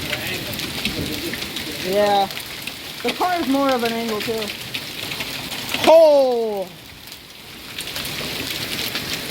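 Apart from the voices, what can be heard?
hailstorm hail falling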